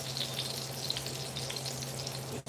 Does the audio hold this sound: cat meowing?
no